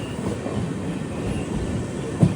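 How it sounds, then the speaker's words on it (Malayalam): Train pulling into Kannur railway station in Kerala, a steady close rumble of wheels and carriages running on with no voices, ending in a short sharp knock near the end. "ഈ ട്രെയിനിൽ നിന്ന് ഇവിടെ ഇറങ്ങാം."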